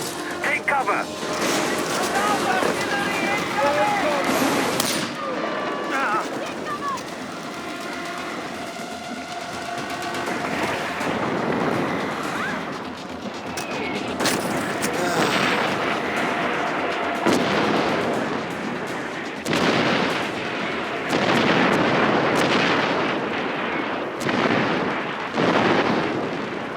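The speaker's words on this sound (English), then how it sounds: "You have artillery rounds incoming. Take cover." Incoming artillery rounds in the video game Far Cry 4, a barrage of repeated heavy blasts and rumbling impacts mixed with gunfire and game noise, with voices talking over the action.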